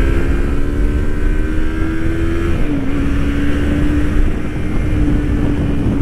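Yamaha MT-25 motorcycle engine under way on a gravel-strewn road, a steady loud drone with rushing wind noise throughout, the engine tone dipping briefly and settling midway, no talking.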